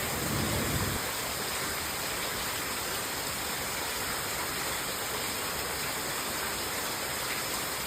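Heavy monsoon rain pours down at night in a coastal Konkan village, a dense, unbroken roar of falling water that stays loud and even throughout, with a slightly louder rumble in the first second and no voices.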